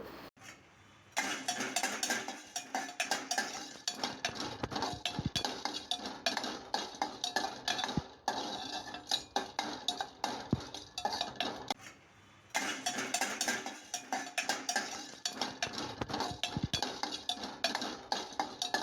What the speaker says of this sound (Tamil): சீரகம் சோம்பு இது ரெண்டையும் ஒன்றா சேர்த்து லைட்டாக வறுத்துட்டு